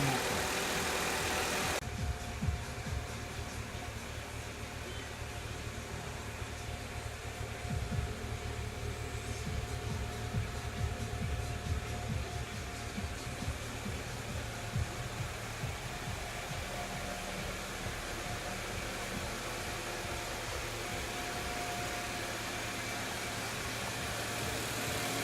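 An old car engine idles steadily for the first time in seven years after a restoration, a continuous near rumble with a broad hiss on top and no talk.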